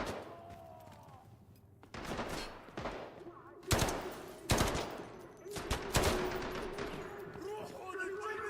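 Gunfire in the video game Delta Force: Black Hawk Down, with heavy bursts of shots and fusillades ringing out repeatedly over a low background rumble, loud and close, broken by short pauses.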